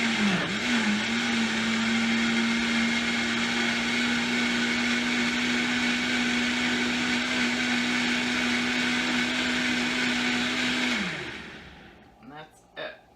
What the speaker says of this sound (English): You can go ahead and use a regular blender.